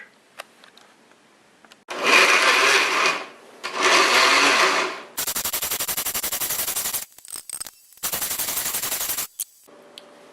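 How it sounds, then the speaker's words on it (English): A blender runs in loud bursts blending salsa verde, first a steady whirring roar for several seconds, then sharper pulsing chops with brief pauses between them. "We'll put it all together in the blender."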